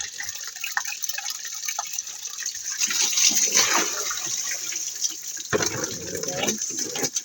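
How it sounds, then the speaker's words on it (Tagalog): Water runs from a tap into a container, a close splashing and gurgling stream that grows louder partway through, with brief clatters and some background noise. "Nagsalod ko sa tubig dere sa taas guys."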